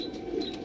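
Kalanka pigeons, a pair of show birds, give a short, low coo close by. The call is soft and over almost at once.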